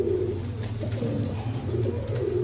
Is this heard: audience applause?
no